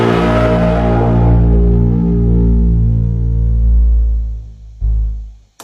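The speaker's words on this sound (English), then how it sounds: "So the Colliding Comb Synth normally sounds like this." Sustained drone from the Colliding Comb Synth free VST plugin: a loud, buzzy harmonic tone with a heavy low end that holds steady, thins and fades near the end, then cuts off with a brief final blip.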